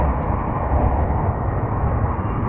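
Inside a moving VGLJ Superfast Express train travelling from Prayagraj to Kolkata, a loud, steady low rumble with a constant rattling roar, carrying on unbroken from start to finish.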